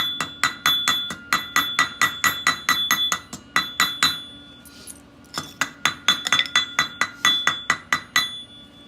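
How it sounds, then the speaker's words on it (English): Rapid, ringing metallic taps of a hammer chipping slag off a flux-core wire weld, in quick bursts with a brief pause midway. "That's why you hit it with the hammer to peel off."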